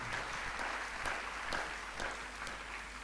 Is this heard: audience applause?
yes